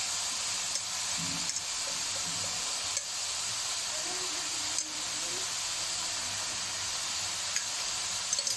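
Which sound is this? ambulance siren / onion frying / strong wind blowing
onion frying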